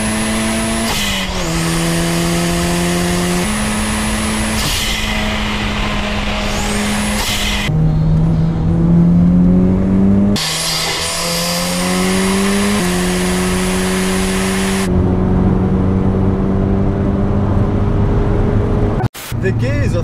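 An older Toyota Celica GT4 four-wheel-drive rally car revs hard toward the red line from inside the cabin, its engine climbing loudly in pitch through several gear changes, each shift dropping the note before it rises again.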